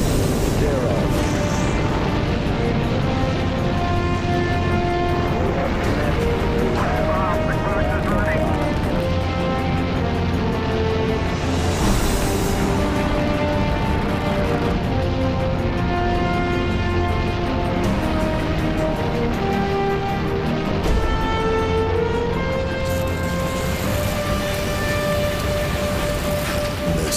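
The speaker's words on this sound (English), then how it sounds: "We have ignition sequence start. The engines are on." A Saturn V rocket lifts off at the Apollo 8 launch as a massive, continuous rumbling roar that fills the whole stretch, with radio-style voices heard faintly over it.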